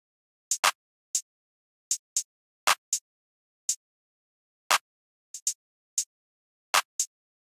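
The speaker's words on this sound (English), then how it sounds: "we had this empire clap with the spacey clap pattern" Empire clap samples programmed in a spacey clap pattern for a trap beat, sounding as sharp, bright, dry claps in an irregular syncopated rhythm, about a dozen hits alone with silence between.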